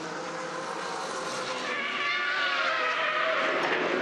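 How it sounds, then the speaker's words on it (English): Loud, sustained squeal of Hoosier tyres from a Touring Car Masters racing car in Adelaide, a continuous high-pitched screech over engine roar, swelling slightly toward the end. "The squeal of those Hoosier tyres on the Greg Crick car."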